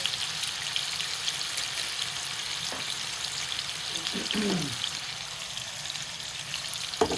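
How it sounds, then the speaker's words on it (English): Chicken pieces shallow frying in a pan over medium-high heat, giving a steady, close hiss and crackle that runs throughout with a few brief spits and pops, and no talking. "You don't want to overcrowd the pan, so just let it cook like this on a shallow fry."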